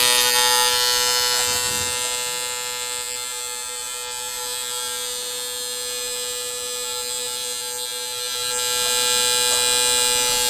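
Fuel injectors from a 2JZ engine buzz steadily during a high-speed flow test, a continuous electric whine with strong harmonic tones that dips slightly in the middle and swells again toward the end.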